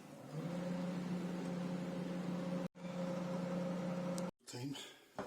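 A microwave oven running on its low 400-watt setting heats a serving of creamy tomato pasta sauce, giving a steady close hum with a strong tonal drone, briefly cut twice by short silent gaps before a little rustling.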